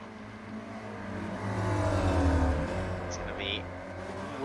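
Spec Racer Ford race car engine in iRacing at Oulton Park, a steady droning note that swells and eases as the car backs off after a slide, heard under race commentary.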